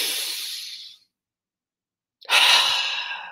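A person in a guided breathing exercise exhales long and audibly, pauses in silence, then takes a deep, close, breathy inhale.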